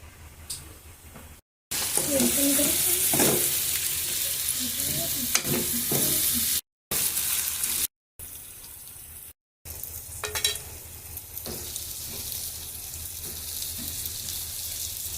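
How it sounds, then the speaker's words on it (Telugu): Potato curry being stirred in a frying pan, with a steady sizzle and scraping strokes running throughout, broken by a few brief gaps; a faint voice and a short run of tap water appear near the end. "ఇలా బాగా వేగినంత వరకు కలుపుకోవాలి"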